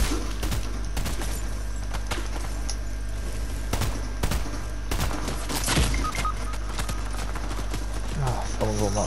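Gunfire in the Fortnite video game, with sharp shots cracking at irregular intervals over a dense game soundscape of hoofbeat-like clatter and background noise, while players talk.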